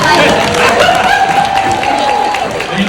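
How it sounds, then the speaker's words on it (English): Audience applause at a talk on purpose and passion with actor Larenz Tate: a loud, dense wash of clapping with cheering voices, continuous for the full length, with music or a sustained tone running underneath. "Can we give a round of applause?"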